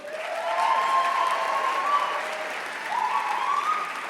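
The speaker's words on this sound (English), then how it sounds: "let's give a round of applause to honor our Site Teachers of the Year" An audience applauds steadily for honorees at an education awards ceremony, a broad sustained clapping that dips briefly midway and then swells again, with a few faint cheers over the top.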